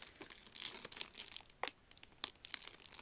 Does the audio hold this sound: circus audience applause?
no